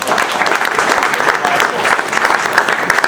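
An audience claps steadily, a dense, sustained round of applause from a crowd with no pauses.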